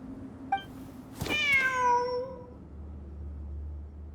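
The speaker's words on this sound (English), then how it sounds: "Wait, there it is! The cat!" A cat meows once in the video game Genshin Impact, a clear, fairly close call that rises and then slowly falls, following a brief chirp and a soft thump over a low ambient game background.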